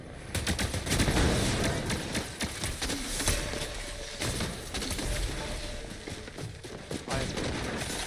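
Rapid gunfire from a turret in a video game, dense bursts of shots running continuously and loudly throughout, with busy game sounds layered underneath.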